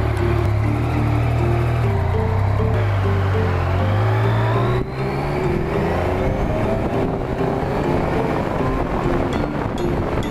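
Yamaha FZ-09 motorcycle engine revving hard, its pitch climbing and dropping sharply with each clutchless upshift, loud and close, with wind rushing over the microphone throughout.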